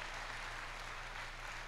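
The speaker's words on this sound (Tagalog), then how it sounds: "Yung pagpalakpak mo dito, palakpak yan." A church congregation claps during a bishop's sermon, a faint, steady patter of many hands heard from a distance.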